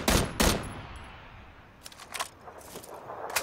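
Gunfire in a video game: two sharp, loud shots right at the start, then a scatter of fainter, more distant cracks and bursts following through the rest.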